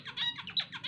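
A male zebra finch sings close by, a quick run of three or four bright, nasal chirps and buzzy notes in under a second.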